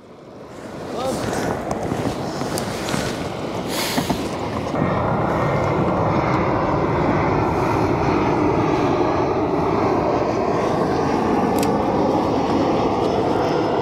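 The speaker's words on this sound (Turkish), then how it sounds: "Uçak sesi." Airplane flying overhead while fishing from a canoe, a steady broad engine roar building after a few seconds and holding loud, mixed with wind and water noise.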